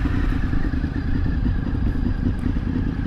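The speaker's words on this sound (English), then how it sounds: "The idle on this bike is crazy." A Honda VFR 800 motorcycle idles with a steady, lumpy low rumble, loud and close, running continuously with no talk over it.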